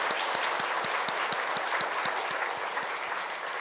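A church congregation at a Sunday worship service claps together in full, even applause, many hands close and loud with a few individual claps popping out rhythmically above the wash.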